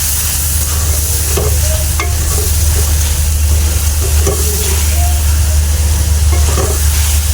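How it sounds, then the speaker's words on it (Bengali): Salt, cumin powder and turmeric fry in hot oil, a steady dense sizzle with occasional stirring clinks from the pan, continuous and close with no talking. "কষাতে কষাতে তেল ছেড়ে দিবে"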